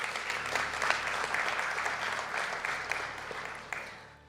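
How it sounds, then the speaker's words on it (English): Applause for graduates at a spring conferring ceremony in Donegal: a moderate crowd claps steadily in a hall, tapering off near the end. "Round of applause, please"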